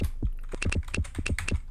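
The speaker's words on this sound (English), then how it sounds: "Start typing." Rapid keyboard typing from the trivia video game You Don't Know Jack: a quick run of crisp, evenly spaced key clicks, close and fairly loud, with no voices over them.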